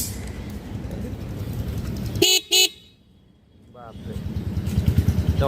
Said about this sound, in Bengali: বড় বড় দুইটা হর্ন এবং খুবই সুন্দর বাজে